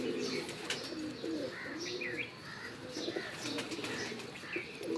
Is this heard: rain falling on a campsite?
no